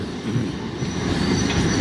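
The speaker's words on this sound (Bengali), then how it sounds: "ট্রেন দূর থেকে আসলে বোঝা যাচ্ছে না, একদম কাছে আসলে বোঝা যাচ্ছে।" A train rumbles close by on rails in dense fog, a loud, steady low roar of wheels and carriages with faint squeal, heard alone without voices.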